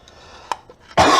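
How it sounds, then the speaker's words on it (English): A short throat-clearing hack, then a sharp, loud cough close by. "I really apologize for the coughing"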